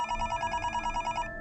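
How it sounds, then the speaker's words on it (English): A telephone bell rings in a steady, rapid trill of repeated bursts, loud and close, cutting off abruptly near the end of a late-night shift at a store. "the phone started ringing"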